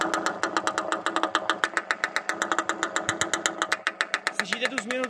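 Suzuki 125 TS X motorcycle engine, a single-cylinder two-stroke-style rapid popping beat, running close and steady at roughly fast idle, with a rising rev near the end.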